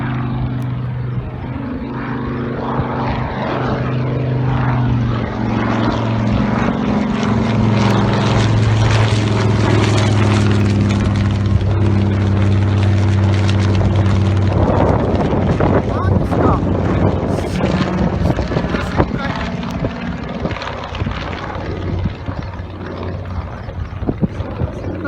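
An A6M Zero propeller fighter flying past and banking into a turn over Chiba and Ibaraki, its engine drone loud and sustained throughout with shifting pitch, over heavy wind buffeting on the microphone.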